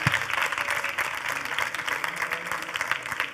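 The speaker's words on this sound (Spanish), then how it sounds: "Yo creo que se merecen ellos un aplauso para terminar" An audience applauds at the close of an education talk on problem-based learning at SIMO Educación 2022, a steady, dense patter of many hands filling the hall for a few seconds.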